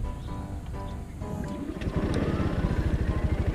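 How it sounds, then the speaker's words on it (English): A small engine catches and settles into a rapid, rhythmic putter that grows louder, like a scooter idling close by over a windy background. "let's start the engine"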